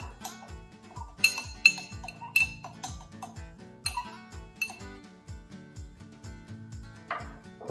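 A spoon stirs an old fashioned cocktail of simple syrup and bitters in a glass, making steady rhythmic clinks against the glass with ice. The sound is close and fairly quiet, with no talking.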